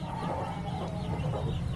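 Hens on a small poultry farm in Purulia give off soft, continuous overlapping clucks under a steady low farmyard hum, faint and close, with no talking.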